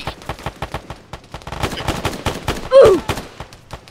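Rapid gunfire in a video game, with sharp repeated shots in quick bursts, some close and loud, and a heavier blast near the end.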